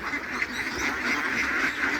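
Several domestic ducks, about three months old and just let out of a pond, quack continuously at close range in a busy, overlapping chorus.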